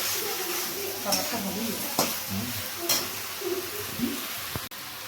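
Chilli chicken sautéing in a sauce mixture in a pan, a continuous close sizzle broken by a few clanking stirs and scrapes of a spatula, with a voice talking faintly underneath.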